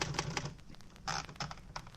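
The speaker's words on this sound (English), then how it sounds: "There was a typewriter, and I tried it." Keys clack on a typewriter in an office, a quick uneven run of sharp strikes close by, with no talk.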